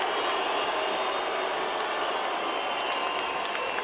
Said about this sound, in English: Filipino fans booing Barrera as he tours the ring